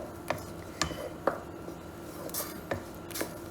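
Boiled meat is stirred into a pot of Nigerian banga (ofe akwu) stew, a spoon tapping and scraping the pot at a steady, unhurried rhythm over a quiet, wet background.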